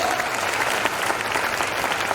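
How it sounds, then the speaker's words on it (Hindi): Dense, loud applause from an audience at a motivational event honoring two mentors, continuous clapping from many hands that fills the whole stretch. "दोनों महागुरु जी के लिए जोरदार तालियां दिल खोल के बजाइए"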